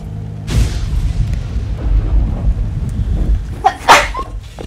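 A single loud, close sneeze bursts out near the end, over a low rumbling background.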